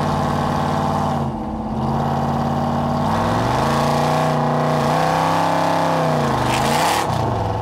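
A 1979 Chevrolet Corvette C3 with a modified carbureted engine and loud aftermarket exhaust rumbles close by, idling deep and then revving up and settling back with a heavy, throaty drone.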